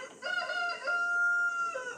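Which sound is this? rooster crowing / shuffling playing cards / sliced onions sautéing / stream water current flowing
rooster crowing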